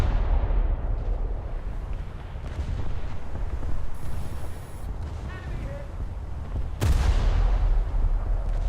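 Naval guns fire in War Thunder, deep booms rolling over a constant low rumble of engines and sea. One strong blast near the end stands out above the rest.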